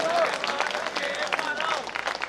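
An audience applauds at a poetry mushaira in Maudaha, Hamirpur, in 2024, a busy wash of many hands clapping at fairly close range, with crowd murmur blended in.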